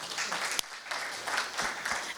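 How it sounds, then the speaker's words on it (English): Moderate applause from an audience at a climate change panel for three speakers, a few sharp individual claps standing out over softer clapping. "So let's give them a round of applause again."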